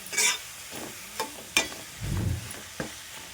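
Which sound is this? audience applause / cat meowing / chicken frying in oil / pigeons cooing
chicken frying in oil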